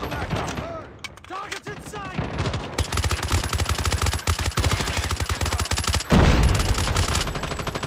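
Dense automatic gunfire in a squad team deathmatch of Call of Duty Mobile crackles in rapid bursts and long sustained volleys, loud and close, with softer game effects in the brief gaps between them.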